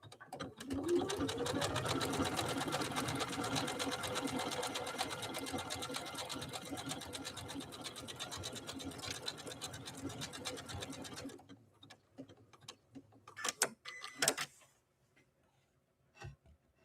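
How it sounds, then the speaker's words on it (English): A Janome Skyline S5 sewing machine sews a stitch with a fast, steady mechanical whir and ticking for about eleven seconds. It then stops, leaving a few quiet clicks and handling noises. "as we were sewing that stitch"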